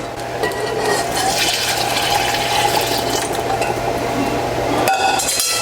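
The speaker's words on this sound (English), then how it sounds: "And we can add the remainder of our milk." Milk poured into a simmering sauce on the stove for Greek papoutsakia stuffed eggplant, a steady liquid pour with a low hum running throughout, ending with a brief clink near the end.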